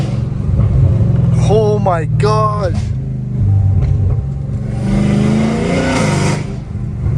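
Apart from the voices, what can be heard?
Dodge Hellcat Redeye engine revving with supercharger whine in parking structure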